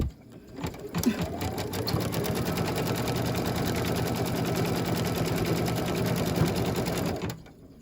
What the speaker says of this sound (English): And we're going to stitch down this piece of fabric.